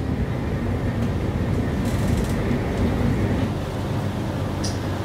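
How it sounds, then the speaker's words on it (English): Steady rumble of a moving train in Japan, a continuous low rolling roar with rail and wind noise and no voices. "I think that was us on the train."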